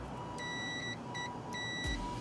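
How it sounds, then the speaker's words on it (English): Three short electronic beeps from a multimeter continuity test on camper wiring, steady high tones with a pause between each, over faint background hum, followed by a low thump at the end. "you'll get a nice beep"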